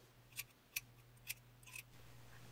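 Scissors cut hair at the back of the head during a home haircut, with three or four crisp, close snips spaced about half a second apart over quiet room hum.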